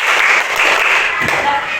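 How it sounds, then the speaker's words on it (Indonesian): Pupils in a classroom clap together in a counted pattern, a loud, dense flurry of hand claps mixed with children's voices. "Tepuk 1, tepuk 2, tepuk 3, tepuk 4,"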